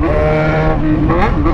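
Yamaha XJ6 motorcycle fitted with a straight-pipe exhaust, with no muffler, roaring loud and close with steady harmonic engine tones that rise and shift in pitch as the throttle changes.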